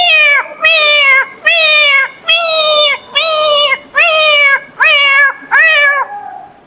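A person imitates a crying cat with eight loud, evenly spaced plaintive meows, each a drawn-out wail of roughly half a second, the final one fading away.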